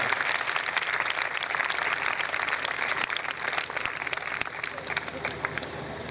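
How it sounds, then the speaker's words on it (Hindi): A church congregation at a Friday healing service claps together in loud, sustained applause lasting the whole stretch, dense and steady with crowd noise mixed in. "खुदा यीशु मसीह के लिए, उसके पाक रूह के लिए जोरदार तालियां बजाएं"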